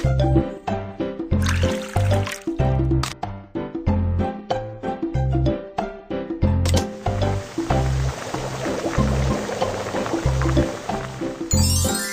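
A cartoonish cooking game plays milk being poured and heated, with liquid trickling and bubbling effects over a looping, bouncy music track that dominates the mix.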